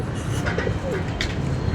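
Pigeons coo softly and repeatedly close by while someone talks over them.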